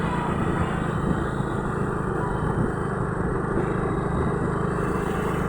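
Motorcycle engine droning steadily while riding a mountain road in Duran toward Donya Telma Spring Resort, a loud, close, continuous hum with no break.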